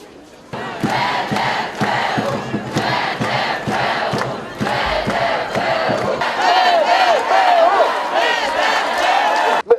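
A large crowd of students shouts loudly in rhythmic chanted bursts outside a regional state administration building, with the repeated cries close and forceful and a few whoops near the end.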